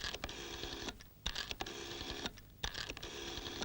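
A telephone being dialed, heard as a string of separate clicks and tones with short pauses between bursts, close and clear, with no voice over it.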